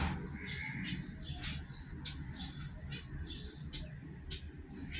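A pair of medium ground finches kept as a couple, giving repeated short high chirps in quick irregular bursts over a steady low background hum, fairly faint and close.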